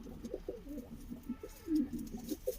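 Pigeons at a home loft coo in a series of soft, low, throaty calls, close and fairly clear, overlapping in a continuous burbling stream.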